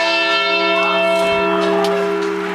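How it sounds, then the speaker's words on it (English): A church bell rings at midnight on New Year's, a single loud struck tone with long ringing overtones that slowly decay, heard alone without talk. "How often does that bell get rung?"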